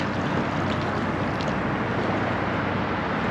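A DIY marine drone driven by a kayak motor runs across open water, giving a steady, continuous wash of motor hum and water noise with no breaks or talking.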